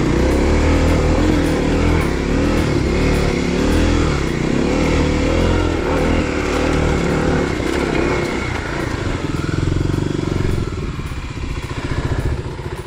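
A Kawasaki KLX250 dirt bike climbs steep single track at high elevation, its single-cylinder engine droning loudly and steadily up close, with shifting revs and clatter from the terrain.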